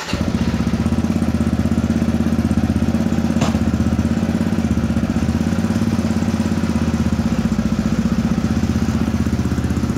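A motorcycle engine idles close by with a steady, throbbing, mechanical chug. It runs loud and unbroken throughout, with a faint clatter from the chain.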